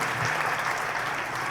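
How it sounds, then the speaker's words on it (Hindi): Loud, dense clapping from a seated audience cheers young performers at an Independence Day cultural program in a women's college hall in Karol Bagh, a continuous close wash of hands with no pause. "हमारे नन्हे कलाकारों के लिए जोरदार तालियां"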